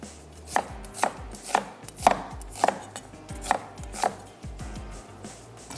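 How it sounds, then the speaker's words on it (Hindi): Two medium onions are roughly chopped with a knife on a board for beef seekh kabab, giving seven or eight crisp, evenly spaced chops that sound close and clear with no talking. "2 अदद दरमियाने साइज़ की प्याज, थोड़ा सा रफली चॉप कर रहे हैं ताकि आसानी से ये पिस जाए।"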